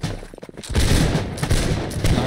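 Musket volley fire in the video game Holdfast: Nations At War, a loud rolling burst of many overlapping shots that erupts after a brief lull and crackles on in a dense, ragged stream.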